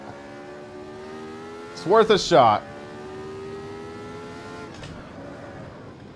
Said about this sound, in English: I love the sound of this car